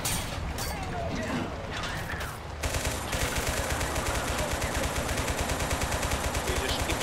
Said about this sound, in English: You just keep shooting them.